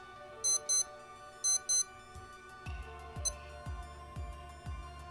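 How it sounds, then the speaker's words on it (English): A Casio F-85 digital watch runs its alarm test: two pairs of sharp high beeps, then a string of rhythmic electronic beeps with low clicks, close and clear. "if you hold the button in, it does an alarm test"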